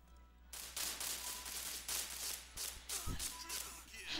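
Rapid bursts of gunfire in the PointBlank Online shooter game, sharp shots in quick clusters repeating over a low background hum, with a brief thud partway through.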